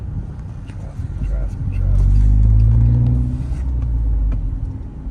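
A 2009 Subaru Impreza wagon with a 5-speed manual gearbox drives in city traffic, its low engine rumble steady and close inside the cabin, swelling briefly louder midway before settling back.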